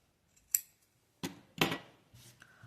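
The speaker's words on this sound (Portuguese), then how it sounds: "Vem aqui com a tesoura." Scissors snip through fabric while a zipped toiletry pouch is being sewn, giving a few close, crisp cuts: one sharp snip followed by a pair of longer slicing strokes and a softer final cut, with no talking.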